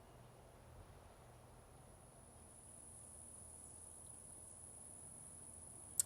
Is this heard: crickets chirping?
yes